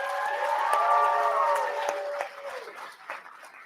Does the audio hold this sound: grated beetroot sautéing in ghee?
no